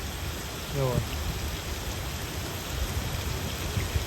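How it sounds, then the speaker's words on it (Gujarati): Heavy rain pours down in a constant, thick hiss over a village, with a brief low murmur near the start. "અડધી પોણે કલાકથી તો સતત ફૂલ વરસાદ ચાલુ છે"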